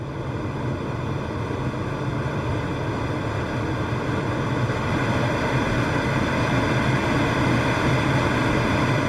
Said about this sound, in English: you will hear your glider movements soaring through the air and clouds